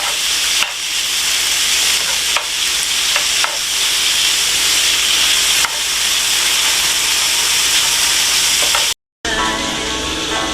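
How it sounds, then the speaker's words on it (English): Bacon and chicken sizzle loudly and steadily in a hot pan, a dense crackling hiss with a few clicks of stirring and a brief cut near the end. "while that finishes frying up"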